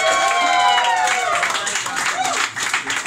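Audience at a stand-up comedy show in a bar applauding and cheering a comedian named Daniel, a steady wash of clapping with voices mixed in, loud and sustained throughout.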